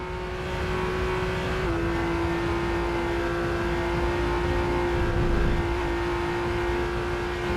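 Maserati MC20 supercar accelerating in the Racing Master racing game on the Nürburgring, a steady, loud engine drone holding one sustained pitch with a slight shift partway through, alone without talk.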